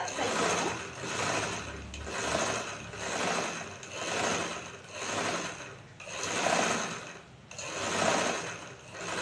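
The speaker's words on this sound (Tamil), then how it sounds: "வெளி ஓரத்தில் தைக்கிறோம்." A sewing machine runs along the outer edge of a chudidar neckline in rhythmic bursts, each a few seconds long with short pauses between. The whirring stitching is moderately quiet and close, with no voice over it.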